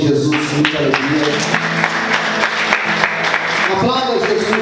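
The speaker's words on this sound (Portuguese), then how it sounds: "Quantos conseguem aplaudir Jesus com muita alegria?" Church congregation applauding during a sermon, a crowd's steady clapping running under sustained music or voices, fairly loud and continuous throughout.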